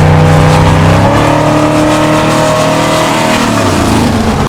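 A car engine revs hard through mufflers, very loud nearby, a throaty roar that rises and then drops away at the end, with no talking.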